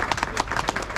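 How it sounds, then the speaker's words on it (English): An outdoor crowd at an Old Skool Zimmers meet-up claps in a round of applause for Robert, brisk and fairly close, with quick overlapping hand claps for a short burst. "Round of applause for Robert."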